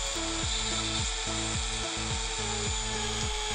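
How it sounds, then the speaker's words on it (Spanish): A small hand or power drill with a 1.5 mm bit boring into a miniature's base, whirring in repeated short bursts with a rising-then-dropping pitch about every half second, close and steady with no talking. "Taladramos ahí sin compasión hasta el fondo todo lo que nos pueda dar el taladro"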